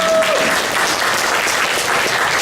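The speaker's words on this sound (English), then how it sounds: "Give her a round of applause." An audience at an International Women's Day event breaks into loud, sustained clapping, a dense wash of applause with no talk over it.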